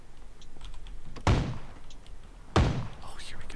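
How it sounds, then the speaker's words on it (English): Two sharp, booming video game gunshots ring out a little over a second apart over a low background murmur of voices. "I'm hearing gunshots"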